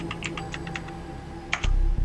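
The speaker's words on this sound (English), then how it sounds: "let's press B here" Computer keyboard keys pressed on a setup connected to an Xbox Series X, a quick cluster of light clicks followed by a couple of sharper taps, close and fairly clear over a low steady hum.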